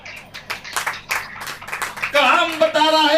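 A church congregation claps in scattered, uneven bursts at first, then settles into a louder, steadier rhythm as singing voices join in.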